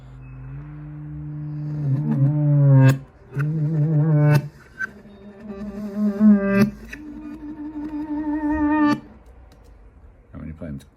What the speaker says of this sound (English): we've got another guitar pan to the left